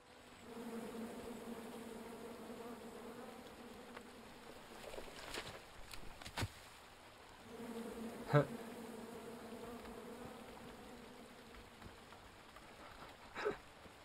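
Bees buzzing in the video game King's Quest, a droning, humming swarm in two stretches with a gap between them, a few sharp clicks and taps along the way.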